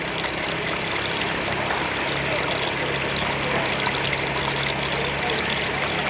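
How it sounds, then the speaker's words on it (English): Water runs steadily from a hillside spring above a farm area in Troy, a continuous broadband rush that stays close and constant throughout with no pauses. "And then we have water running"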